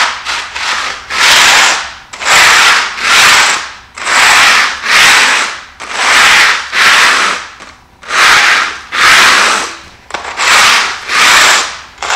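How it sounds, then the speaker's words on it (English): A large pole scraper drags across a dried chip floor in long rhythmic strokes, each a loud, rough, gritty rasp close by, about a dozen passes with short gaps between them. "with a large scraper, preferably one with a pole, so we can scrape two different directions"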